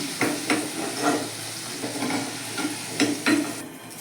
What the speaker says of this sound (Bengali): আলুগুলো লাল লাল করে ভাজা হয়ে গেছে এবার আমি আলুগুলোকে তুলে দিচ্ছি